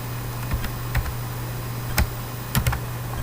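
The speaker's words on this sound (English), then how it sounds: "then press the enter key." Computer keys tapped while entering a spreadsheet formula: a handful of sparse, distinct clicks spaced irregularly across a few seconds over a steady low background hum, with no talking.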